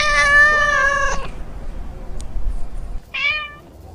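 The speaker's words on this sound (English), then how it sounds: "C for cat." A cat gives two meows, a long drawn-out one followed after a pause by a shorter one, clear and close with no talking.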